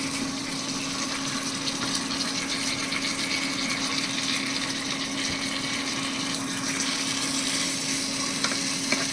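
Rohu fish heads frying with spices in a pan and being stirred, a steady close sizzle with scraping and stirring motion throughout, no voices over it.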